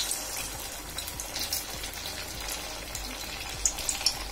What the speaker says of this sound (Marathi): आपण गॅसवर तेल तापत ठेवलंय आणि आपलं तेल तापलेलं आहे पहा, तर आपण आता चमचम तळून घेऊया।